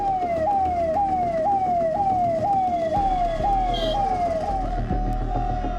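An ambulance stuck in a traffic jam sounds its siren, a loud, close wailing tone sweeping up and down in regular cycles over rumbling road traffic.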